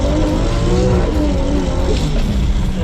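A Datsun car out with a Datsun club holds a loud, close, continuous engine roar while doing a handbrake skid, with rising revs and a rough tyre rush on top.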